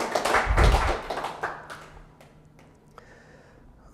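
A small audience claps after a software demo, a burst of applause that peaks early and then thins out into scattered, fading claps.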